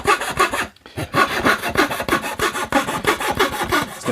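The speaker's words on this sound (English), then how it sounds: "Let's finish this cut, shall we? Now this is a skip tooth blade." A coarse skip tooth blade saws through soft-grained redwood during a guitar build, a loud, continuous rasping stroke rhythm with a brief pause near the start.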